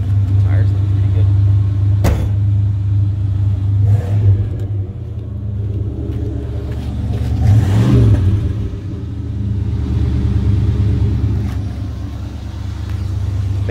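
A 1987 Chevrolet El Camino drives along with a steady low engine rumble that swells as it accelerates, with a couple of sharp knocks and people talking over the road noise.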